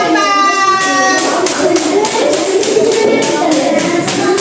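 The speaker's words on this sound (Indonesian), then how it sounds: "Tepuk tangan untuk kelompok 4." Students in a classroom clap for a presenting group, loud close claps in a rapid rhythmic pattern over a voice trailing off at the start.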